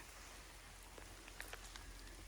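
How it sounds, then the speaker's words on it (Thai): Rain falls in a forest, a soft continuous hiss of drops on leaves and ground, with a few faint individual drips standing out. No one speaks. "วันนี้ฝนตกด้วยนะคะ"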